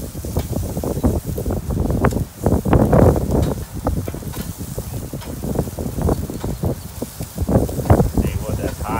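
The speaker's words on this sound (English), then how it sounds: "It's windy out here." Wind buffets the microphone outdoors beside a grill cooking ribeye steaks, in rough, uneven gusts, with a low rumble running throughout and faint rustling beneath.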